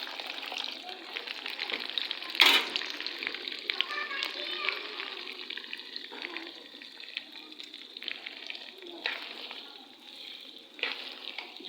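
Stir-frying of lightly pre-fried vegetables in a pan for restaurant-style Chinese rice and chicken Manchurian, a steady hiss with occasional scraping strokes, heard close alongside background chatter and children's voices.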